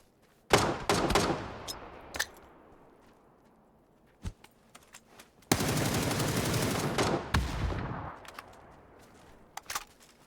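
Gunfire in the video game PUBG: several sharp single shots early on, then a sustained burst of rapid automatic fire in the middle, followed by a few scattered later shots.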